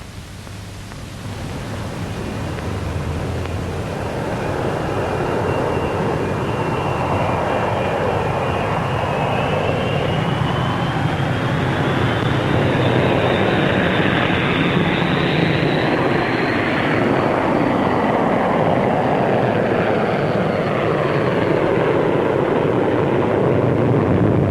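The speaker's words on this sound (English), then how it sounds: "Here we see the first two Vulcans taking the air." Two Avro Vulcan jet bombers fly past, a broad, steady roar that swells and holds with a faint rising whine, fairly distant and continuous without speech.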